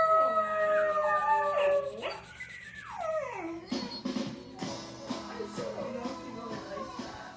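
A dog lets out a couple of long, wavering howls close by, then trails off into whines and soft rustling.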